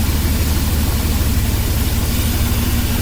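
A car engine idling at normal speed, shortly after starting, in a steady, loud, low rumble with an even pulsing throb and no change in pace, close up and without talk.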